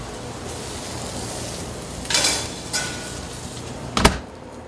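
Steady sizzling of a pork chop frying in a hot pan in a restaurant kitchen, with a few louder clanks of a utensil against the pan over the continuous hiss.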